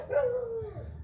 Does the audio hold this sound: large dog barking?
yes